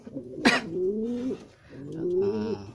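Racing pigeons in a loft cooing nearby, two drawn-out throaty coos separated by a brief pause, with a sharp flutter or scuffle near the start.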